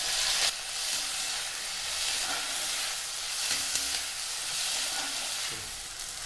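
Tomato and onion sautéing in a pan for drumstick fry, a steady close sizzle with periodic spatula stirs and scrapes every second or so, moderately loud and with no speech.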